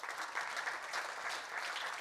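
An audience at a hockey federation event gives a round of applause, a brief, even wash of clapping heard at a fairly soft, distant level.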